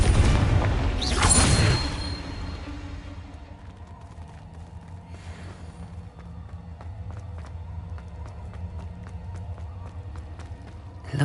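Confringo blasting spell explosions in the video game Hogwarts Legacy, a loud booming blast at the start that rumbles away, then a quieter stretch of ambient cave sound and faint footsteps.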